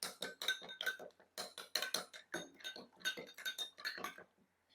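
A beaten egg mixture with salt, chili pieces and pepper is whisked in a bowl, giving rapid, fairly faint rhythmic clinks and taps that stop briefly near the end.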